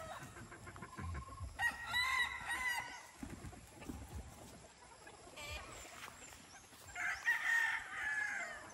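A white kelso gamefowl rooster, about six months old, crows several times in a row, with more crows overlapping and some clucking from other birds in the background.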